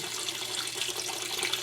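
Hydroponic water pump of about 50 gallons per hour, running in a nutrient tank in a spare bedroom setup, gives a steady close trickling and splashing of circulating water, even and continuous with no talk.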